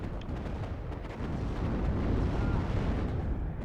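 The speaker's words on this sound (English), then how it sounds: "The sound of the BMP3 autocannon is insane" BMP-3 autocannon firing in a war video game, a dense run of rapid booming shots merging into a continuous loud rumble, with no talk over it.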